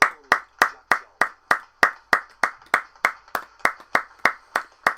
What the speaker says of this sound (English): we are going to have a minute's applause in memory of the one and only Jack Charlton